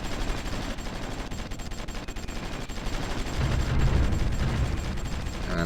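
Distant, rumbling artillery fire from a Supreme Ruler Ultimate strategy game, a dense steady roll of booms and crackling gunfire that swells louder toward the end, with no voices.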